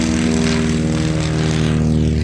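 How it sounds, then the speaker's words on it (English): Propeller airplane passing over Santa Monica Airport, a loud, steady droning engine with strong tonal hum that fills the whole stretch, close and continuous. "Look at this plane going over here."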